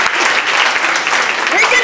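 A gala audience at an NAACP scholarship fundraiser claps steadily, a dense, loud, continuous wash of applause from start to finish with no clear pauses.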